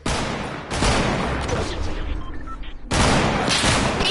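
Fortnite gunfire: loud, dense bursts of rapid shots that keep going almost without a break, with a fresh heavy volley near the end.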